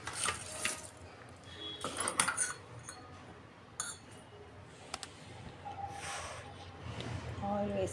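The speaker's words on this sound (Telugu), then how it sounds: "ఇందులో కొద్దిగా ఆయిల్ వేసుకొని కలుపుకుందాం" Chicken being mixed with oil in a bowl with a spoon, giving intermittent clinks and scrapes of metal against the dish, with a voice talking in between.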